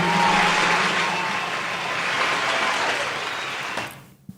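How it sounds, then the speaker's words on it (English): A studio audience at a podcast taping claps and cheers in a dense, loud, sustained wave that fades out sharply near the end, with no one speaking over it. "Keep this applause going."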